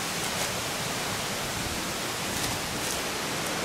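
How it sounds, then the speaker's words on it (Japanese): Takada waterfall in Kimotsuki, Kagoshima, gives a constant, close, full roar of falling water that holds steady throughout with no other sounds. "なかなかいい滝じゃないですか。"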